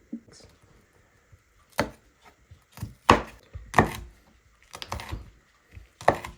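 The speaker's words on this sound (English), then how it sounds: "Alright, so I got everything chopped up." Sharp knife chops on a board cutting vegetables, several spaced strikes with short pauses between them, close and fairly crisp, with no talking.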